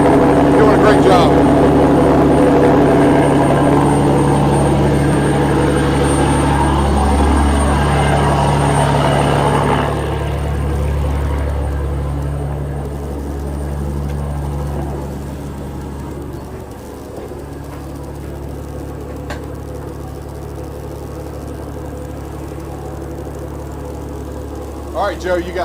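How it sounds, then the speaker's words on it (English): A shrimping boat's engine runs for the whole clip as a loud, steady low drone. It eases slightly in level partway through, with some wind and background noise and a few faint knocks. "Joe's running the boat for a little bit until Johnny got in the way."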